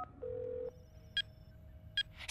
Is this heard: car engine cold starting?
no